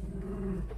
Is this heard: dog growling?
yes